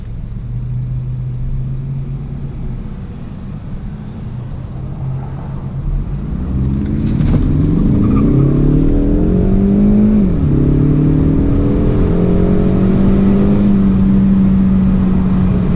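A Ford Mustang EcoBoost accelerates hard from 0 to 60 uphill, its engine rumble building into loud rising revs with audible gear changes, heard close from inside the car.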